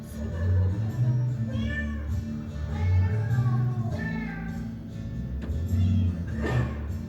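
A cat meows repeatedly at close range, drawn-out rising and falling cries spaced a second or two apart over a low steady hum, with no one talking.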